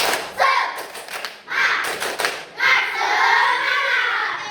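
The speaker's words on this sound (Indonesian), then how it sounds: "mari kita tepuk semangat" A classroom of students performing a rhythmic clapping chant, with bursts of loud claps alternating with the group's voices calling out together, close and lively.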